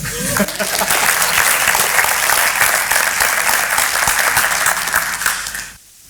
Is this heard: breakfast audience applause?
yes